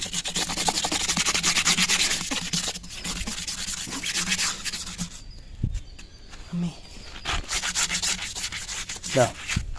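A vehicle tyre is scrubbed and lathered with a brush, producing loud, rhythmic rasping strokes that come in bursts with brief pauses and a few soft knocks between them.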